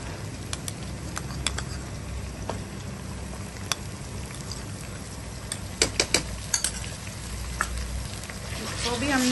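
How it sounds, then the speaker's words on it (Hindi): Ginger-garlic paste with crushed green chillies frying together with onions in a pan, giving a steady soft sizzle with scattered crackles and occasional spatula clicks, close and unaccompanied. "इसको भी हमने प्याजों के साथ हल्का सा जो है फ्राई कर लेना है।"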